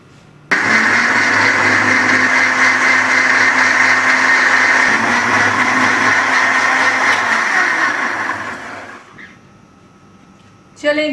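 A kitchen blender grinds ginger for ginger lemon tea, a steady loud whirring drone that starts abruptly, runs for about eight seconds, then winds down, followed by a brief restart at the end.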